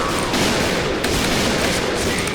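Rapid gunfire in the shooter game Point Blank, a continuous barrage of loud, overlapping shots sustained with no pause throughout.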